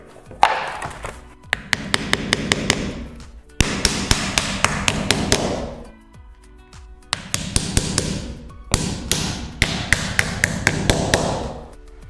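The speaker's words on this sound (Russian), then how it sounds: "Ты забыл самый надежный способ – это молоток и гвозди." Nails are driven by hammer for laminate mounted on a wall, heard as bursts of sharp, ringing metallic blows in quick rhythmic series, separated by brief pauses, close and clear.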